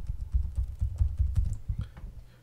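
A short run of typing on a computer keyboard as a password is entered in account settings, with close, quick key presses that thin out and stop near the end.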